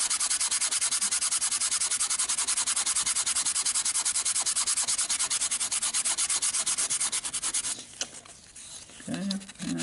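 A Nerf Crosscut blaster being hand sanded, with rapid rhythmic rasping strokes close up that go on steadily, then break off near the end as faint handling noises take over.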